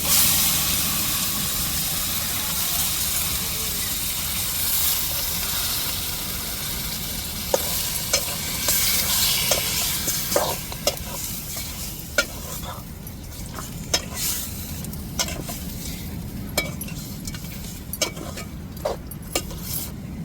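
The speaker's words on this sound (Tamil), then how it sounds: "இப்போ நம்ம அலசி எடுத்து வச்சுருக்கிற சிக்கனை சேர்த்துக்கிருவோங்க" Chicken pieces frying in a pan with sautéed ginger and garlic for a green chicken curry, a steady close sizzle with repeated sharp scraping strokes of a spatula growing more frequent in the second half.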